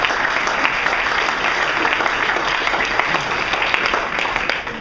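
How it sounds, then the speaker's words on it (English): A small business group breaks into a dense round of applause for hypnosis volunteers, with steady close clapping filling the whole room for several seconds. "Round of applause for these guys."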